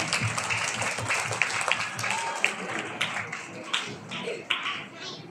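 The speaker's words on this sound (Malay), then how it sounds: "marilah sekali lagi kita berikan tepukan gemuruh kepada anak-anak Gayung Sekolah Kebangsaan" An audience at a school awards ceremony applauding a primary school silat troupe, a room of steady scattered clapping with some louder individual claps, mixed with a background murmur of voices.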